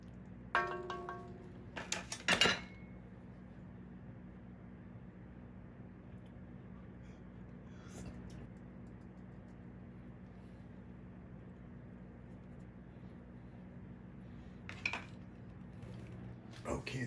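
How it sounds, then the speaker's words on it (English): A utensil stirs onion soup in a cast iron pot, giving a few scraping clinks near the start and brief knocks later, with long quiet stretches between. "Let's go ahead and give this a stir"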